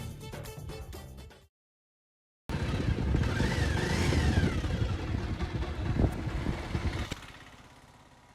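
A motorbike engine starts after a short silence and runs steadily, holding a rough idle with slight rises in revs before fading toward the end, with no talk over it.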